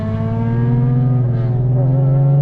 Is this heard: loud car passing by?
yes